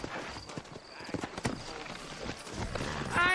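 Horse hooves clip-clop in a steady trot amid a busy outdoor town soundscape in the video game Red Dead Redemption, with faint voices in the background.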